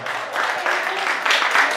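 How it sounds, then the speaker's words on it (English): A dense, continuous round of applause fills the room for a birthday girl at a celebration, the clapping merging into a steady rush of many hands. "a round of applause for the birthday girl"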